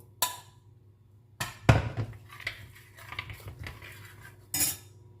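A kadai set down on a stove while cooking sambar: a few separate metallic clanks and clatters of cookware, one louder thud-like knock, with quiet gaps between, close by and with no talking.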